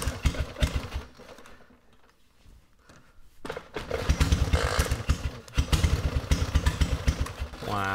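An old engine that had not run in 30 years running with a rough, pulsing rhythm that fades briefly, then returns louder, with rattling mechanical clatter throughout.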